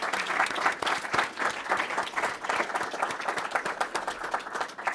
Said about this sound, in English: I think they're worth a round of applause